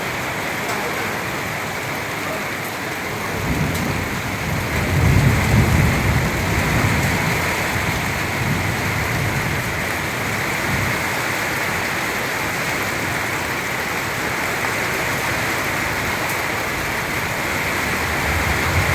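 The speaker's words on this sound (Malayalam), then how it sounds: "ഭയങ്കര മഴയും കാറ്റുമാണ് ഭയങ്കര കാറ്റാണ്" Steady, heavy rain with strong wind roars throughout with a broad rushing wash, swelling briefly with a deeper gusty surge early on; no voices stand out.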